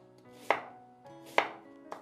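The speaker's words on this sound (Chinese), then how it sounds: "准备半个洋葱来切一下，先切掉头部和尾部" A knife chops half an onion on a cutting board in a home kitchen, two sharp, distinct thumps about a second apart, then a softer third, alone and close.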